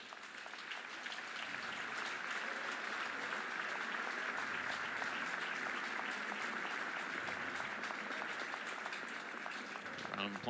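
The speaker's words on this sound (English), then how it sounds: "Round of applause by the fans." Baseball crowd at a college game between Oklahoma and Alabama applauding an injured player, a sustained distant wash of clapping heard faintly from the stands with no break.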